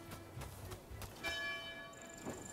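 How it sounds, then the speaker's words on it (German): A bell tolls in the game Rise of the Ronin, with a few resonant strikes and a ringing tone that lingers quietly over low ambient game sound. "aber ein cooler Effekt gerade mit der Glocke"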